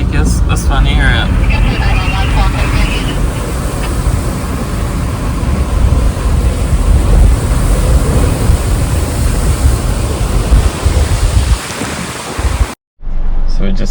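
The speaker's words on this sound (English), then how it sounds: "the waves aren't too bad at the moment" Ocean waves and strong wind at Mad Mile beach in Gisborne after a cyclone give a loud, constant roar of surf mixed with heavy microphone wind buffeting, cutting out briefly near the end.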